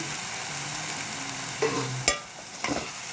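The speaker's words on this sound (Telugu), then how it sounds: "అన్ని కలిసేలా చక్కగా కలుపుకుందాం చక్కగా కారం కూడా మగ్గనివ్వాలి" Egg curry with chili powder being stirred in a frying pan, a spoon scraping and clacking against the pan over a soft sizzle, with a few distinct knocks near the end.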